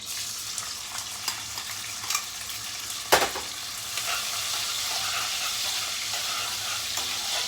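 Diced onion and garlic frying together in a pan give a continuous bright sizzle, with a single sharp clink of a utensil partway through and faint stirring scrapes, no voices.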